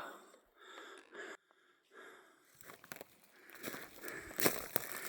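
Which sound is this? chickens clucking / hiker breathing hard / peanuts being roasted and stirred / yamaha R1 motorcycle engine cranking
hiker breathing hard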